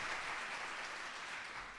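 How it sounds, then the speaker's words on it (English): A breakfast audience at a youth homelessness policy event applauds for Brian, a brief, even wash of clapping that holds steady and fades slightly at the end. "another round of applause for Brian"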